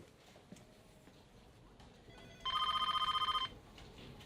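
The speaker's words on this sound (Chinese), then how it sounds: "电话在响。" A telephone rings once in a quiet office: a single burst of bright, trilling electronic ringing about a second long, fairly close and clear over faint room tone.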